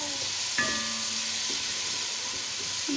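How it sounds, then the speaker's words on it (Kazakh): A moderate, steady sizzle of chopped garlic with onion and meat frying in oil, with a few faint clinks and a soft tonal squeak early on. "Чесноктарымызды майдалап турап, онда қосып, шыж-быж етіп қуырып аламыз."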